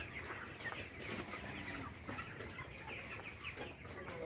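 A crowded flock of broiler chickens in a rearing shed clucks continuously, many overlapping bird calls forming a dense, steady, fairly quiet chatter with no speech.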